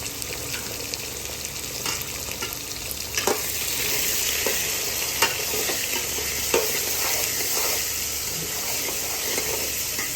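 Crushed ginger sizzles in hot oil in a pan, a loud steady frying hiss close up, broken by clicks and scrapes as it is stirred.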